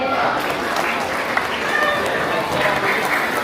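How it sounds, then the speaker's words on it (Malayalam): Children clapping at a school opening ceremony, a steady dense round of applause from a crowd, with voices mixed in under it. "ഹാപ്പി ആയെങ്കിലും ഒന്ന് കൈയടിച്ചേ"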